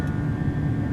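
A PMDG 737-800 jet airliner in a flight simulator rolls for takeoff, a steady broadband engine roar with a faint high whine, brief and continuous.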